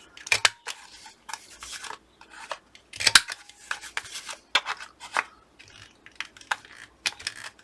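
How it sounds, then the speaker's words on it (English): A corner rounder punch trims the corners off tags, giving a series of crisp, sharp snapping clicks at irregular intervals, close up and with no talk. "I'll cut the corners off them in a minute."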